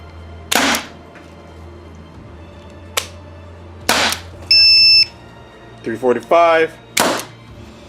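Paintball revolver marker fired in separate loud sharp pops, a few spaced shots, with an electronic chronograph beep and someone talking briefly between them.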